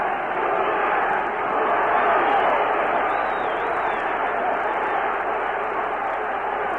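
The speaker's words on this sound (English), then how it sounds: "The crowd urging him on to the knockout." A boxing crowd roars in a dense, continuous wall of cheering as a fighter presses for a knockout, with a thin, band-limited broadcast quality throughout.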